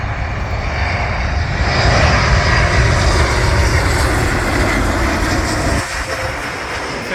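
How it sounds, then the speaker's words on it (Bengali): A passenger airplane descends to land, passing low over the treetops with a loud, steady engine roar that holds throughout and dips only briefly near the end; no one speaks. "এই যে এখন আরেকটা প্লেন নামতেছে এখানে, দুই গাছের মাথা দিয়া"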